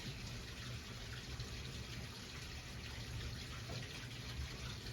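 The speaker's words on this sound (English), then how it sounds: "I have forgotten that it is laundry day, and I'm going to be hearing that water splashing sound for a while." Laundry water splashing and gushing in the background, a continuous steady wash of running water, fairly faint and unbroken, with no voices.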